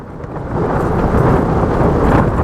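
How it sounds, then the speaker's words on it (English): Strong wind buffets a tent, a loud, low rumbling roar that builds after the first half-second and holds steady throughout, with no voices. "this wind ain't going anywhere, it's staying in"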